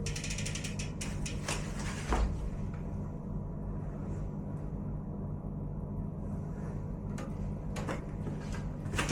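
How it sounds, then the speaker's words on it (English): Clicking and ratcheting mechanical sounds from a tool working a bicycle through axle, with sporadic metallic ticks over a constant low background hum. "we'll get the tool that takes out the through axle"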